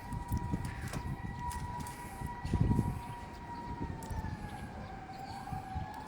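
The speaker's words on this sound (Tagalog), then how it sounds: "Naririnig ko banda yung sirena dun o." A distant emergency siren wails in slow rising and falling tones during a fire in Las Piñas, heard from a warehouse rooftop over a low outdoor rumble and wind.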